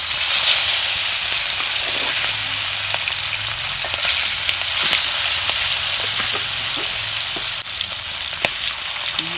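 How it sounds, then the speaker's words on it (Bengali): Pieces of a large carp fry in hot oil, giving a strong, continuous sizzle with crackling pops and bursts of spatter, close and loud. "তেল তেল গরম হয়েছে, আমি মাছগুলো দিয়ে দিলাম।"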